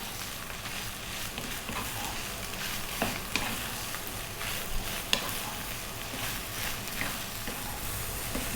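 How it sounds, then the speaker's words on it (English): Spices being stirred continuously in a hot pan for an Arab-style shark dish, giving a steady, close sizzle and frying hiss with occasional scraping clicks of the utensil, no voices. "we're now going to stir pretty much all the time now for about 4 minutes."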